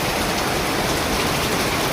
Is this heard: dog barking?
no